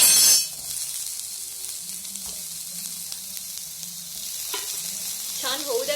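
Onion, curry leaves and tomato fry in a pan with a steady, close sizzle. Light stirring knocks break in now and then, and the crackle grows brighter toward the end.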